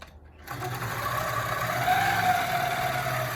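A longarm quilting sewing machine starts up and stitches steadily along a ruler, a close, continuous motor whir with fast rhythmic needle chatter and no speech.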